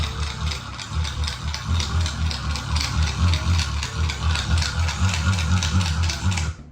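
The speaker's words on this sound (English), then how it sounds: "It's a sound of a hand fan." A hand fan being waved makes a steady, rapid rhythmic whooshing and fluttering that repeats over and over, close and fairly loud, with no voices.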